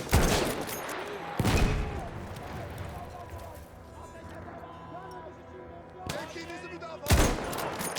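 Gunfire in Battlefield 1 from a seven-shot weapon: sharp loud broadband shots near 0, 1.5, 6 and 7 seconds, spaced irregularly over a busy battle backdrop, with talk in the background.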